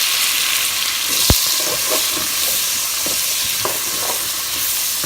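Onions and bacon frying in a pan, a loud, steady close-up sizzle and crackle throughout, with a sharp clank of a utensil against the pan near the start and a few softer stirring knocks later.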